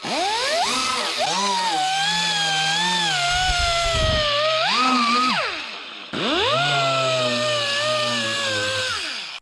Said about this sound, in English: it's sort of a handy dandy little dual action sander